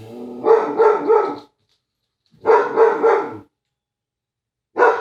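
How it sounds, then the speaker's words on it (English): A female dog barks in three loud, close bursts of rapid barks separated by short silences, with a fourth burst starting at the end. "We'll wait until she stops barking."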